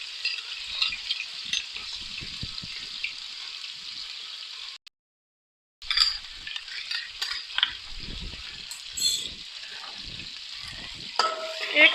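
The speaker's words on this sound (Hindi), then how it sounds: "इस कुकिंग ऑयल में 1 टेबलस्पून भर के जो हमने अदरक लहसुन का पेस्ट बनाया था उसको ऐड करेंगे।" Ginger garlic paste frying in hot cooking oil, a steady bright sizzle with stirring scrapes, briefly cut to silence midway before the crackling resumes, close and without talk.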